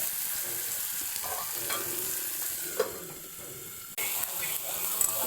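Meat, with tomatoes, fries in a pan for a tadka, making a continuous close sizzle broken by a few sharp clicks and a brief clatter midway.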